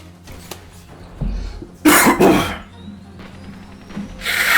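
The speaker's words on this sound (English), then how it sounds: "Let me blow my nose real quick." A person blows their nose in two strong, breathy bursts near the mic, with rustling and handling noise around it and another nasal exhale at the end.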